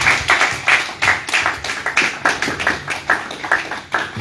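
A small group claps together in a steady, rhythmic beat, close and fairly loud, with no talking over it.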